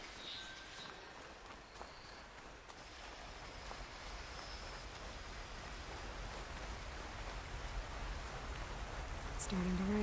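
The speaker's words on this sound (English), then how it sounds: "It's starting to rain." Video game rain falls steadily, a dense hissing wash that slowly swells louder toward the end.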